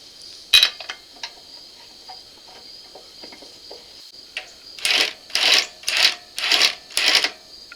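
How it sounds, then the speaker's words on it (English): An impact wrench on its lowest setting tightens lug nuts on a Mercedes Sprinter 2500 rear wheel: a sharp metallic clink and light handling, then five loud, close, rattling bursts in quick succession. "I just have my impact on the lowest setting right now"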